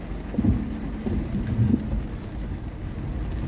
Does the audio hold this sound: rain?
yes